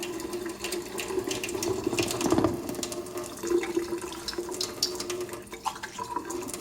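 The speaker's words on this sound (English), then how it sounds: "Washing is a part of every lab." Water runs steadily from a lab tap during washing, with splashing and clatter from items being rinsed in the sink.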